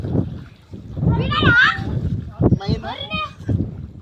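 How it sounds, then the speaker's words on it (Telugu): Children swimming in a well send up occasional splashes amid loud, lively kids' chatter and shouts, up close. "ఇది చూడండి పిల్లలందరూ ఎదులాడుతున్నారు"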